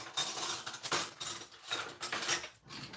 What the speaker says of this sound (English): I always grab a metal spoon for this part just to stir it